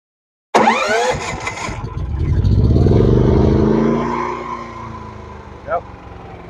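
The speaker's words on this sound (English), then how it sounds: "Go ahead and warm up your generator." DuroMax XP9000iH 459cc dual fuel inverter generator pulled to life running on gas: a sudden start, engine rising to a loud steady roar, then settling to a lower hum, with a brief metallic sound near the end.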